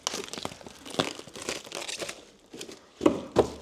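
Stretch film being cut off on a SmartWasp pallet wrapping machine, heard as crinkling, crackling plastic with a few sharper tearing bursts near the end, fairly close and alone.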